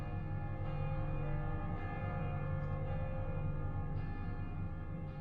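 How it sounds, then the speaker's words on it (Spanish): Distant church bells from several village churches toll in a steady, dense wash, sustained resonant tones layered evenly throughout with no voices. "En la distancia, podemos oír las campanas de Viviers, Mondol, Carfentan y Baguer-Morvan."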